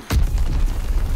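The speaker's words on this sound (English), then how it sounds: "grenade" A loud, close grenade explosion in Call of Duty WW2, a sharp blast followed by a sustained rumbling roar.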